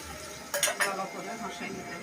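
Fish curry masala with onion, tomato and chilli powder stirred in a pan, a few sharp scraping clinks of a spoon against metal over a low sizzle, close and brief.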